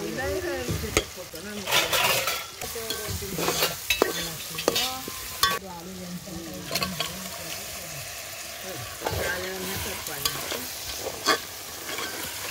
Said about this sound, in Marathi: वाटण टाकले थोडंसं.